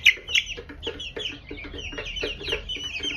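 Broiler chickens in their growing stage cluck steadily in a near, busy chorus of short overlapping calls, with no voices over them.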